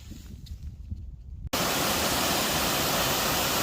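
Long Creek Falls on the Appalachian Trail roars as a steady, loud broadband waterfall rush, close by and constant, after a brief quieter stretch of outdoor ambience.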